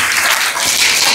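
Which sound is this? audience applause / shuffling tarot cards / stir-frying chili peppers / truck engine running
audience applause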